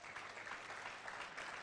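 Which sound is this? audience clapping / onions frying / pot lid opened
audience clapping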